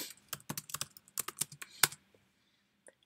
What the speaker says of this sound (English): Oops, typing in space here.